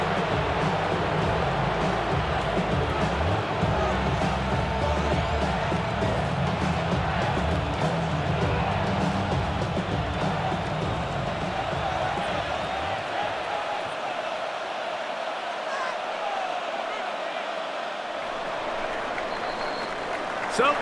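A stadium crowd in Madden NFL 26 at a Chiefs vs. Giants game roars steadily, a broad sustained wash of cheering and noise that runs the full length, loud and continuous with a commentator talking over it.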